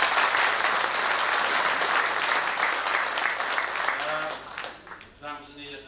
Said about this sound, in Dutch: Ik zou zeggen, geef haar ook hem een hartelijk applaus.